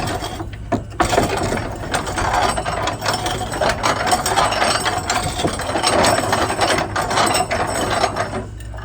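A small grinder runs loud and close, a continuous harsh mechanical whir with rattling, ratchety texture that holds steady for several seconds after a brief start.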